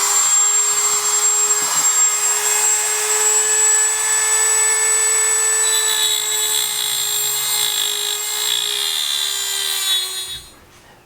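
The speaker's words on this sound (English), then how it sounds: "So I have a Dremel tool here, and I've got the penny secured in the vise" Dremel rotary tool cutting into a copper penny clamped in a vise, a steady high-pitched grinding whine with a constant motor tone running unbroken for about ten seconds before stopping abruptly; no talking.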